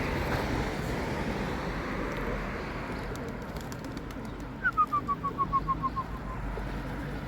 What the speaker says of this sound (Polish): Gołąbki jedzą.